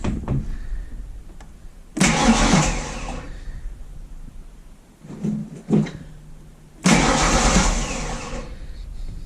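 A car engine fitted with an 8-stack EFI system cranks and catches roughly in two loud, broadband bursts, each lasting about two seconds, separated by a quieter pause.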